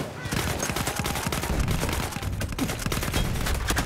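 Heavy gunfire in Battlefield 1 multiplayer, a continuous loud barrage of overlapping shots and rattling automatic fire, close and sustained throughout.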